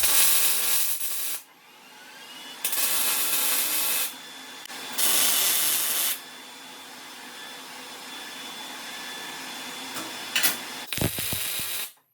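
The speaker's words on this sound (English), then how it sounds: "I'm going to start off by tack welding the 2 sides together." Tack welds joining two sides of a steel bar-table leg joint with quarter-inch steel plate give four short bursts of harsh crackling hiss, each about a second long, separated by quieter shop noise.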